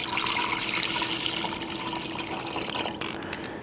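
Vegetable stock pours into a pot of mushroom soup thickened with butter and flour, a steady close liquid splash and trickle that runs the whole time and eases slightly near the end.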